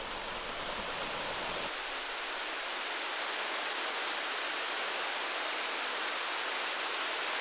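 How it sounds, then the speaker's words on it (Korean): A waterfall roaring steadily nearby, a dense unbroken rush of falling water that fills the whole clip. "선녀폭포."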